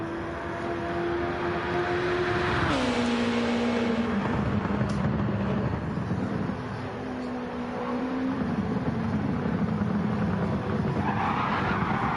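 Race cars sweep through the Porsche curves at Le Mans during practice, a steady loud engine drone that drops in pitch as gears shift, with a second car's note overlapping and rising toward the end.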